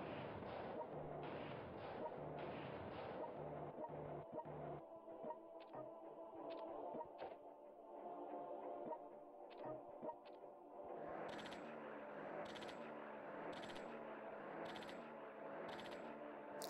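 Artillery fire in the strategy game World Conqueror 3, a series of sharp distant booms and impacts, fairly quiet, over a steady game music bed, with more rapid shots toward the end.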